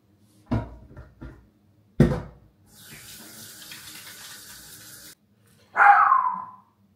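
A pet dog in a home kitchen gives a couple of sharp barks between clattering sounds and the rush of a running tap filling a sink, ending with one loud close bark.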